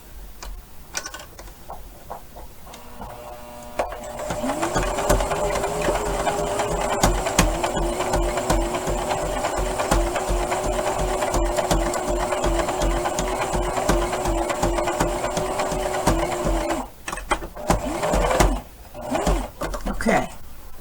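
A sewing machine runs a long continuous burst of rapid, even stitching while sewing the last seam on gloves made from sweatpants, close and clear, stopping briefly near the end with a few short bursts, with a voice heard around it.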